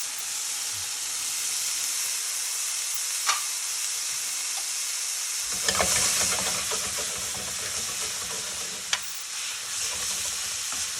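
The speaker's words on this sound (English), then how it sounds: "Let's go ahead and introduce the garlic." Sliced garlic hits a hot pan and sizzles with a steady hiss, punctuated by a few sharp clicks of a utensil and a louder burst of frying partway through, cooking pork scallopini alongside.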